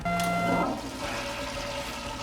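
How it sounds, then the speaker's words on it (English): A toilet flushes in a short rushing burst of water with a tonal whine at the start, settling into a quieter draining swirl. "Clogged toilet. To unclog, press the orange button."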